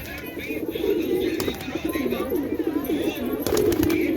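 Several pigeons in a pigeon loft coo continuously in overlapping low, rolling murmurs as they gather twigs for nests, close by, with a few sharp clicks and faint chirps mixed in.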